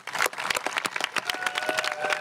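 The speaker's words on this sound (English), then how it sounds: "Can we give another round of applause for our Executive Director" Audience at an anniversary celebration ceremony claps in a brief, lively burst of applause, many overlapping hand claps forming a continuous patter throughout.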